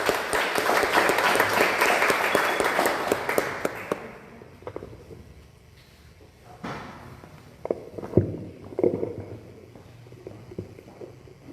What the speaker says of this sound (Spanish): Les pido un fuerte aplauso de nuevo